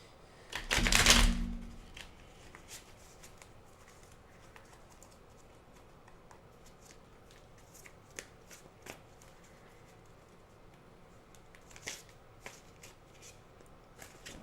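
Cards riffle-shuffled for a tarot-style love reading, one dense loud burst near the start, followed by a long stretch of faint scattered ticks and taps as cards are pulled and laid down.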